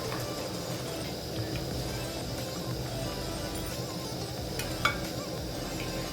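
Festival snacks for Varamahalakshmi frying in a pan of oil on a low stove, a steady dense sizzle and bubbling that runs throughout, with a faint clink of a utensil near the end.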